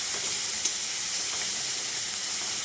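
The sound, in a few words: minced onion frying with garlic in a pan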